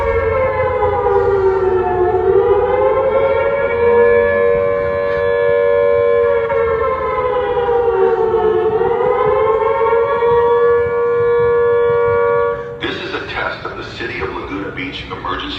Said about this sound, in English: Emergency siren warning system